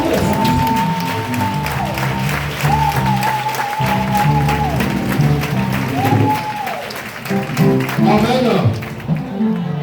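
A congregation at a prayer assembly claps steadily in rhythmic applause, joined by loud amplified singing and a voice over music throughout.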